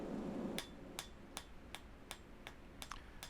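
Light hammer strokes texture a thin, hot steel flower petal, ringing out as about eight sharp, evenly spaced metallic taps after a brief rush of forge noise.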